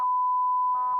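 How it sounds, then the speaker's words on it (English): A house phone emits a long steady electronic beep tone, fairly loud and close, ending with a couple of short clicks and pulses. "That's the house phone"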